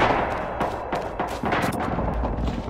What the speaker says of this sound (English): Oh shit, grenade!